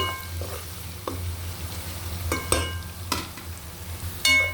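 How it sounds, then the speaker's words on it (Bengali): Onions fry quietly in a pan for a shol fish curry with potatoes, a soft sizzle broken by several sharp scrapes and clicks of stirring. "পেঁয়াজগুলো ভাজা হয়ে গেছে"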